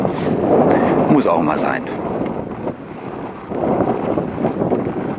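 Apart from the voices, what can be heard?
wind on a pier by the sea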